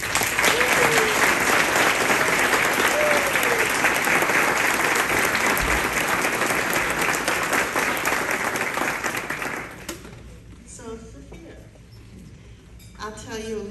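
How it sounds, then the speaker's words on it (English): A luncheon audience bursts into sustained, dense applause, loud and close, which holds for about ten seconds and then fades out to a quieter room with a few faint sounds. "join me in giving them a round of applause"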